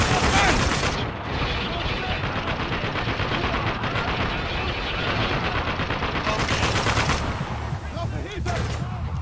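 Sustained gunfire in the war shooter Spec Ops: The Line, a dense, continuous barrage of rapid shots and impacts that fills the whole stretch at close, loud range without pause.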